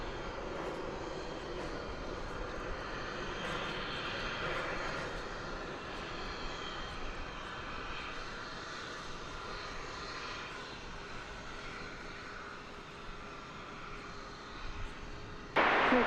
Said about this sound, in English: So there's the plane from the Hoosier State